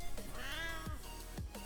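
A Smeeta kavat, a cat-like companion in the video game Warframe, lets out a single drawn-out meow, close and clear, followed by a couple of short thumping sounds.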